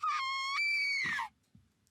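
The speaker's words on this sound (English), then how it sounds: "A scream." A high, piercing scream from a character in the visual novel game Fate/Stay Night, one sustained shrill cry lasting over a second with a falling end, followed by quiet.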